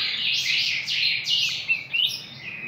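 A young pica hueso bird sings nearby, a run of loud, bright, high chirping phrases that sweep down in pitch and repeat over a few seconds.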